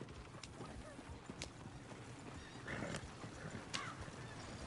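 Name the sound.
horse hooves and whinny from a video game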